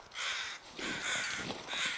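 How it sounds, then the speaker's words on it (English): Crows caw in a snowy wilderness in The Long Dark, three harsh calls in a row, moderately close and otherwise alone. "hopefully those crows showing up means that the snow is clearing up"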